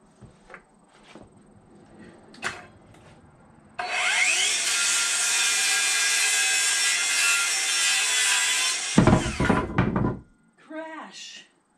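A handsaw rasps through wood wall framing along a marked cut line for about five seconds, loud and close, ending with a clatter; brief speech and knocks come before and after.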